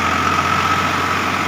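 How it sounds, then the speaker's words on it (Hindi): A Farmtrac 45 Powermaxx tractor of about 50 hp idles nearby, giving a continuous, loud, even engine drone with a steady hum and no pauses. "किसान भाइयों, फार्म ट्रैक 45 है"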